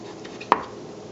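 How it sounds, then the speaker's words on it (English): A kitchen knife slicing the skin off a ginger root on a cutting board: one crisp, close chop with a short sharp attack, alone in a quiet room. "how I go about cutting off the outside of the ginger"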